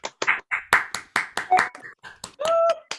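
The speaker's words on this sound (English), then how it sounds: "We can have a big round of applause for Miles, Cheryl, Susie, Penny and Roger." A small audience at a book launch applauds with a handful of sharp, uneven hand claps. The claps are close and distinct, spaced irregularly over about three seconds.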